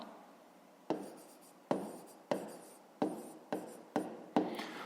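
A pen writes a math solution by hand on paper, giving a series of soft scratchy strokes with distinct taps at each new mark, close and quiet, with no talk.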